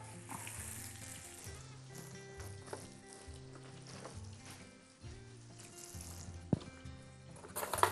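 Breaded food, dipped twice in egg and mayonnaise and twice in spices and breadcrumbs, fries on both sides in a pan, giving a steady close sizzle beneath louder background music.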